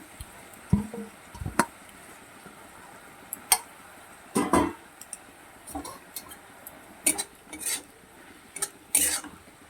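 Chopped taro leaves frying with spices in a pan, heard as scattered clinks and scrapes of a utensil against the pan, irregular and close, over a quiet background sizzle.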